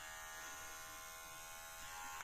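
A Havells BT5112C cordless beard trimmer runs with a steady, even electric buzz from start to finish, heard close up and alone before it cuts off at the end.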